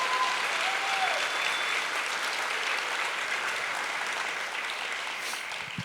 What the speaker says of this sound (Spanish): yo creo que la house y la casita se merece un aplauso por todo lo que está pasando